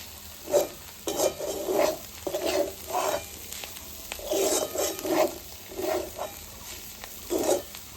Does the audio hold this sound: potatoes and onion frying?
yes